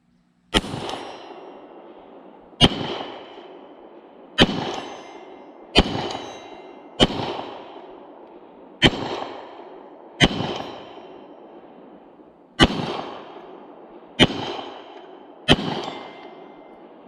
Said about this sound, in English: we're back inside from shooting the Beretta 92G, the Brigadier Volunteer Tennessee commemorative model